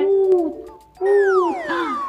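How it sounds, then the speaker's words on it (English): An owl hooting, two loud close drawn-out hoots with a short gap between them, the second followed by a gliding tail, alone without talk. "It's an owl. Look at this bird with big, big eyes. And it says, hoot, hoot, hoot."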